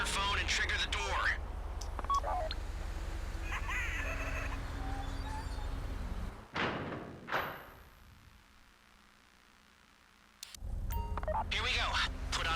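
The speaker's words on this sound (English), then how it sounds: "Take out your phone and trigger the door." In GTA Online, a phone is used to trigger a bank vault door during the Fleeca heist: brief electronic beeps, then heavy mechanical thuds and a rumbling door movement, followed by a quiet stretch, with speech around it.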